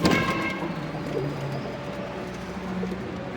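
A pet bird coos nearby in low, soft, repeated calls over a steady background hum, with no one speaking.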